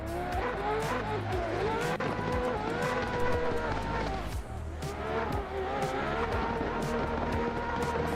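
A Toyota Supra drifts around Suzuka Circuit in a sim racing game, its engine roaring at high revs with sustained tire squeal and skidding, loud and continuous throughout.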